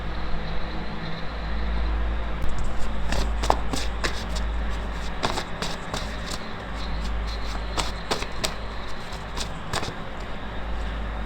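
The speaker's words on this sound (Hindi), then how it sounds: "I am actually searching for cards" Tarot cards shuffled and flipped through by hand, a string of short crisp card snaps and riffles over a steady low hum, close and fairly quiet with no talking.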